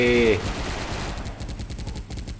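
Rapid automatic gunfire from a G36C rifle in the mobile shooter SF Mobile (Special Force), a fast steady stream of shots that continues evenly throughout after a brief electronic tone at the start.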